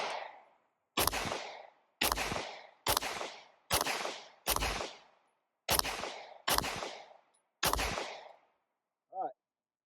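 A Faxon FX-19 Hellfire Compact pistol fires about nine loud, close shots in an uneven rhythm, each sharp crack trailing off before the next, with a brief voice at the very end.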